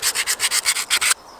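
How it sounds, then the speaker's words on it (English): BMX bicycle brake pads being sanded down by hand, about nine quick rhythmic rasping strokes, close and loud, then stopping abruptly. "When it comes to the day that you want new brake pads, you've got to sand them."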